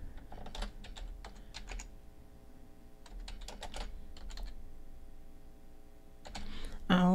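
Typing on a computer keyboard, bursts of quick close key clicks in short runs separated by pauses, fairly quiet against a soft background hum.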